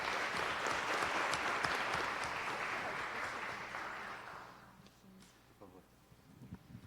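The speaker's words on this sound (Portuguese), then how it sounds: "pedir uma salva de palmas assim" An audience at an academic event applauds loudly, a dense wash of clapping that fades out over the last couple of seconds into quiet room noise and a few stray sounds.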